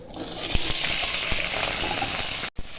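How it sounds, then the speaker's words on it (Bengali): Potatoes for paneer biryani fry in hot oil, a loud, steady, close crackling sizzle with a few pops and a brief break near the end. "এখন আলুগুলোও ভেজে নেব"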